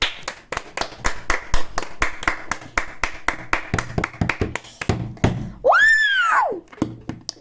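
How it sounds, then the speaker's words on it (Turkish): An audience claps at a stage event, sharp distinct handclaps falling in a quick, fairly regular rhythm, interrupted midway by a loud rising-and-falling whistle before the clapping resumes. "Bir alkış kopsun"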